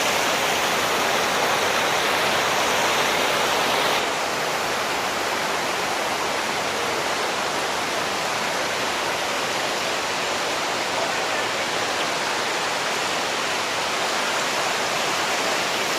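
The Nikhaloy waterfalls in Chechnya rush in a constant dense roar of falling water, loud and unbroken throughout, heard close with no other sounds.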